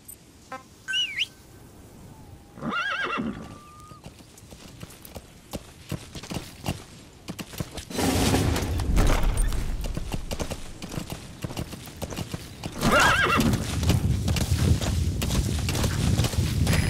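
A horse in Metal Gear Solid V: The Phantom Pain gives a short early call amid chirping birds. Clip-clop hoofbeats follow, growing into a loud, rapid gallop that persists to the end with no talking.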